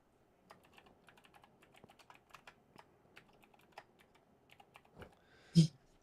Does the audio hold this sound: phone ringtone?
no